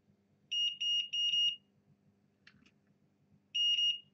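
A multimeter's continuity tester sounds sharp electronic beeps while probing pads on a Yamaha DC motherboard. Three quick beeps come in a row, a short pause follows, then one more beep. They are close and clear over a faint background hum.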